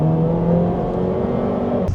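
A BAIC X55 mid-size SUV accelerates, its engine giving a steady, fairly loud droning whir heard from inside or close by, ending with a brief change near the end.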